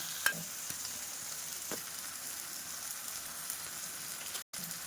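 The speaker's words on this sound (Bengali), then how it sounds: "তো চলো ক্যাপসিকামগুলো একটুখানি ভেজে নিয়ে আসছি।" Capsicum frying in a pan, a soft continuous crackling sizzle with a few light clicks, quiet and close, cut off by a brief silent gap near the end.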